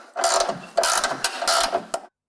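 Ratchet wrench with a 13 mm socket tightening a bolt on a rear bumper bracket of a 2004-08 Ford F150, with three quick close bursts of rapid metallic clicking.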